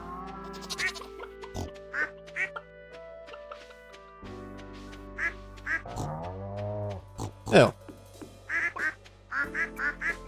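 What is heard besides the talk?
ducks quacking in the video game Stardew Valley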